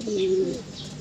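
Racing pigeons in a loft give a soft, low coo close by, a single drawn-out call that fades, with faint ambient room noise behind.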